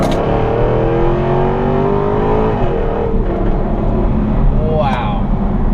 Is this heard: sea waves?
no